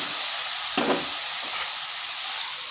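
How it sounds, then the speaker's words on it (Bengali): A medium potato with a little salt and turmeric fries in a pan with a steady, close sizzle. There is a brief scrape from stirring near the start. "আলুটাকে একটু ভাজা ভাজা করে নেব।"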